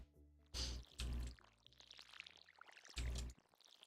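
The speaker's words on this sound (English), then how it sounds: "And we'll water them all." Crops are watered with a watering can in Stardew Valley, three short bursts of splashing pour, each under a second, separated by brief pauses amid soft game music.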